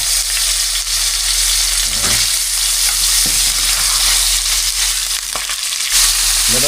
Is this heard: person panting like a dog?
no